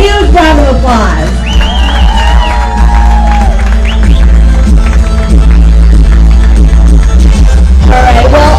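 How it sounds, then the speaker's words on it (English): Crowd at a charity walk closing ceremony held at a zoo, cheering, whooping and applauding loudly and up close, with shouts and a voice over the noise. "give yourself a huge round of applause"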